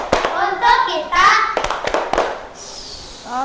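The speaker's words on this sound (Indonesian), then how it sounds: "Kita tepuk salut untuk kita semua." A class of young pupils gives a rhythmic 'tepuk salut' clapping cheer in a primary school classroom, with several sharp bursts of hand claps mixed with children's voices calling out.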